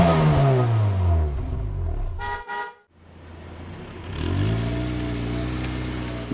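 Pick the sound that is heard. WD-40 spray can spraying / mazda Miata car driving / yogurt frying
mazda Miata car driving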